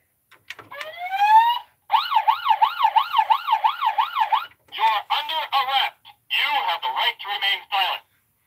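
A Road Rippers Russian Rescue Ambulance toy siren wails in a rapid electronic warble, then switches to choppier bursts of siren tones, loud and close with no talking.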